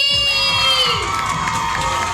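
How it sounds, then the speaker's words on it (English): A pageant audience cheers, screams and applauds as a contestant is named into the top five, loud and continuous with high excited voices throughout. "Huge round of applause!"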